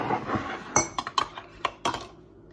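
Ceramic mugs clink and knock together several times in quick, uneven bursts, close by, over soft rustling.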